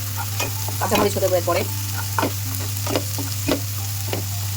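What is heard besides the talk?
spices frying in a pan while cooking sour eggplant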